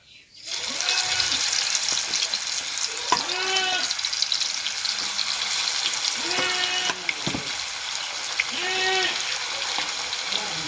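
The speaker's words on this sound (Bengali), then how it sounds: "তেলটা গরম হয়ে গেছে, মাছগুলো দিয়ে দিব।" Whole tilapia fry in hot mustard oil on a crowded tawa. A continuous bright sizzle starts as the fish go in and carries on, with a person talking over it at intervals.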